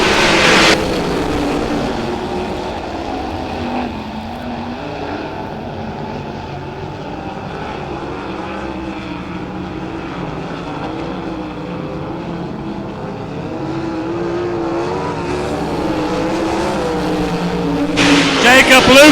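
Race cars roaring through a B Main heat at Battleground Speedway, a loud, continuous blend of engines rising and falling as the field circles the track.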